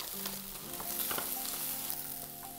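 Onion and vegetables sizzle in hot oil in a pan for sweet and sour squid, a constant close fry with light crackling and faint stirring over a soft background hum.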